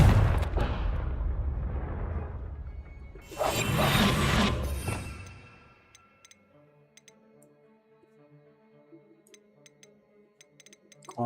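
A Confringo blasting spell in Hogwarts Legacy lands as loud, rumbling explosions that burst and fade over several seconds, followed by quiet ticking game sounds.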